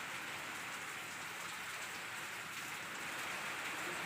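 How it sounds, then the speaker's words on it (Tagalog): Heavy rain driven by strong wind pours down as a dense, steady hiss of drops on surfaces, filling the scene evenly with no voices. "Kakusog sa hangin ulan."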